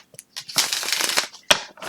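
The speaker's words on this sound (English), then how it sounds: "I was able to shuffle it really well. I'll give you a little demonstration of that here." Matte cardstock tarot cards being shuffled close up, a short dry papery riffle of rapid flutters rising into a dense burst, then a sharp snap as the deck settles, followed by a few quieter taps.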